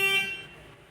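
A single short car horn toot sounds on a street, a bright tonal blast that fades out within a second.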